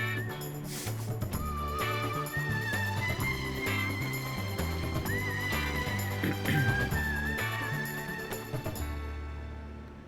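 A horse whinnies a few times over loud dramatic music, with high wavering calls rising above the steady score.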